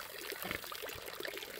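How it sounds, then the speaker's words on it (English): Water from a garden hose run up along a fence empties out in a steady pouring trickle, filling a trough with fresh water for pigs; the flow is soft and continuous with a few small splashes, heard alone. "Got the water hose that comes all the way up, goes up the fence, empties out"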